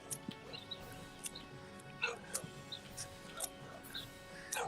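Dogs in the video game Final Fantasy XIV give faint, scattered yips and short barks over a quiet background, a few brief bursts spread across the moment.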